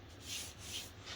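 Rhythmic back-and-forth wet sanding of a surface with water, three soft strokes in a quiet, close setting.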